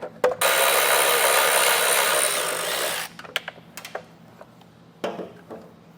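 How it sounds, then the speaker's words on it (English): A power tool with a deep well socket removes long studs on a 2023 Ford Maverick. It whirs loudly for about three seconds, then gives way to scattered metallic clicks and clanks nearby. "I do recommend a deep well socket to be able to get those taken out"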